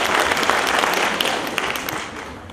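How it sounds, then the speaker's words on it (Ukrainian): Audience applause at a festival greets an actor, a dense, close burst of clapping that slowly fades over a couple of seconds. "Оплески йому."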